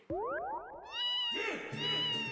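A mobile phone message tone built from cartoonish cat meows, a sliding boing-like call followed by a longer, layered meow, loud and close, with no talking over it.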